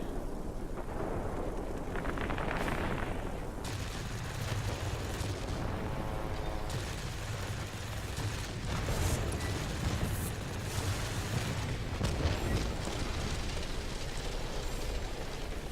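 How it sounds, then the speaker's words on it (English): Rocket strikes and explosions from the World of Warplanes attack-aircraft game, with Ilyushin IL-8 and IL-10 planes, form a dense, continuous roar of booms and rumbling blasts, loud and sustained throughout with no talk. "The enemy is launching rocket strikes on our complex."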